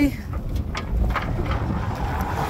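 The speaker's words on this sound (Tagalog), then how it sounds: "sobrang lakas ng hangin talaga" Strong, steady wind roars and buffets the microphone, a dense low rumble with gusty swells throughout.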